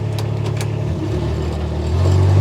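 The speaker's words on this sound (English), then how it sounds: "We're going to fire it up, run it around, show you what it's supposed to do." Engine of a 2021 Kubota RTV-X1140 four-seat 4x4 utility vehicle with convertible dump bed running close up, a steady low diesel rumble that swells louder near the end as it revs.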